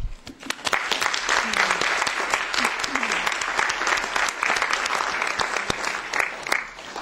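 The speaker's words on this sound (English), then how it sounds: "I think that we should pay them a tribute with an applause" An audience at a forum on media objectivity and independence applauds as a tribute to journalists, with dense, steady clapping filling the room for the full stretch, close and loud, and a voice briefly audible near the start.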